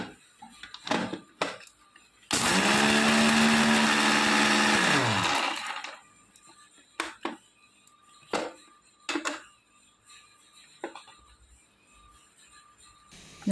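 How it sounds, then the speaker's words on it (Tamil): A mixer grinder whirs loudly for about three seconds as it grinds roasted gram for chutney, then stops, followed by scattered knocks and clatter of the jar and lid nearby. "வெறும் பொட்டுக்கல்லை மட்டும் சும்மா ஒரு ஓட்டு ஓட்டிக்கோங்க."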